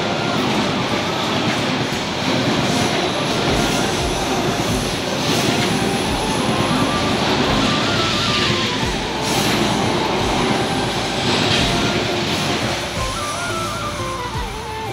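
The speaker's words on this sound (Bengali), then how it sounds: "এটা কোন ট্রেন গেল?" A train passes through Birkutsa railway station in Bagmara, Rajshahi, its loud, continuous rumble and wheel clatter holding steady for the whole stretch, with no talk over it.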